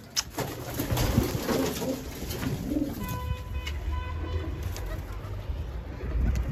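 Soft pigeon cooing repeats in low, rounded bursts against a steady outdoor background hum, with occasional faint chirps.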